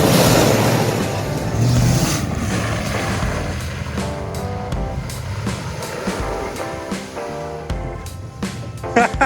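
A 1995 Ford F-150 on old-school Bronco wheels, driving off-road without four-wheel drive, strains around a corner, its engine revving and droning loudly at first, then easing into lower, uneven rumbling with clatters and knocks.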